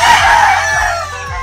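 A fighting rooster crows loudly and close by in a cement-floored pen beside the sea, one long drawn-out call that fills the whole moment, with no talking over it.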